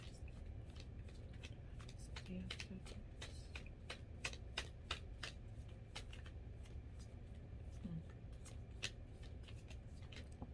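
Tarot cards shuffled by hand in repeated quick riffles and flicks, crisp and close, over a low steady background hum, with no talk.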